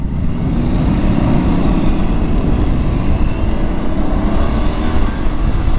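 An Aprilia Tuareg 660 motorcycle engine drones steadily on a demo ride, a loud, continuous low rumble mixed with wind rush and no talking.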